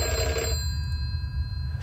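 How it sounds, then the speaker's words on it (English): A telephone rings in the indie horror game Deep Sleep, a steady electronic bell tone that sounds loud and close for about half a second before cutting off, leaving a low rumbling game ambience underneath. "Don't want to answer that phone."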